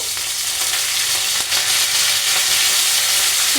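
Urad dal, chana dal, onion and curry leaves frying in hot oil for a gongura tomato curry: a loud, steady, close sizzle that runs unbroken throughout.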